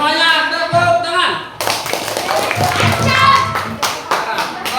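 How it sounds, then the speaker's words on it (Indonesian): A class of students clapping their hands together in a classroom, a burst of dense claps following a teacher's spoken instruction, with talking over and around the clapping. "semuanya tepuk tangan"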